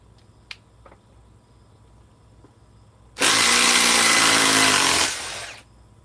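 A DeWalt power drill whirs loudly at close range in a single burst of about two seconds while backing screws out, after a few faint clicks and handling knocks. No one speaks.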